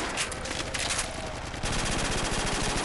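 An ACR assault rifle, in its Modern Warfare 3 variant, fires in loud, continuous automatic bursts during a Call of Duty custom zombies match, with a dense, rapid rattle close up and no talking.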